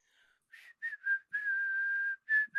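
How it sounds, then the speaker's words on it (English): Someone whistles a short improvised tune that descends, made of clear, close phrases: a few brief notes, then one long held tone, then two more short notes. "I just whistled an improvisation over it"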